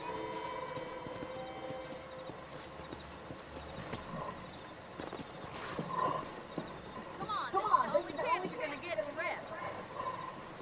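Horse hooves clip-clop in Red Dead Redemption, a steady mid-distance trot with an occasional whinny, running under game dialogue and ambient sound that grows busier toward the end.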